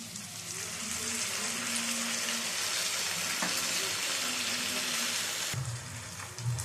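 Mixed sauce pours into a pan of mushrooms, giving a steady close wash of liquid and sizzle that holds for several seconds and then drops off abruptly near the end.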